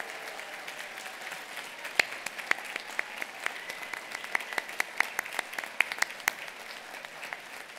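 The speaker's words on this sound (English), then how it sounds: "I really want to give a round of applause to them." Applause for a kidney transplant team in a hall, steady moderate clapping from a smallish audience with distinct sharp individual claps throughout, no talking over it.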